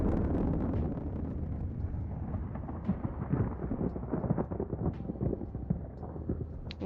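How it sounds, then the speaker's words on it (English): A large, sustained explosion of a ship's reactor drive core in a video game, rumbling loud and continuous for several seconds, with crackling bursts and debris noise building midway and no one talking. "It's an explosion!"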